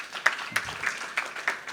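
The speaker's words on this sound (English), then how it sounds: "round of applause for Bryan, guys." A small audience claps for a speaker at a marketing talk, sparse and fairly quiet, with a few distinct hand claps spaced unevenly over a couple of seconds.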